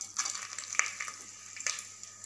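Cinnamon, cloves, cardamom and star anise sizzle in four spoons of hot groundnut oil for egg biryani, giving a soft, continuous crackle with a few sharper pops over a faint background hum.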